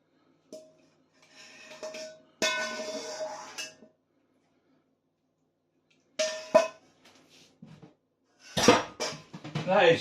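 Plates and dishes knock and clatter in a home kitchen as a chicken, onion and bell pepper dish in brown sauce is finished. The sounds come in separate bursts of handling, with quiet gaps between them.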